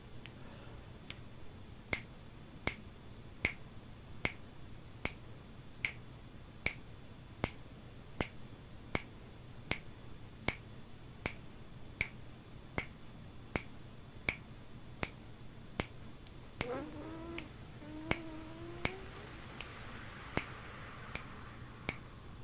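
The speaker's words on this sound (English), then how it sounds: "I'll snap my fingers for the count so you know how long they are" Sharp finger snaps at a steady slow tempo, about one every 0.8 seconds, counting beats during a beginning voice class, loud and isolated against a low hum, with brief vocal sounds near the end.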